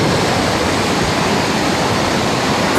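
A heavy waterfall at the Loongma crashes with a constant, loud roar of rushing water, close by and unbroken throughout, with no voices.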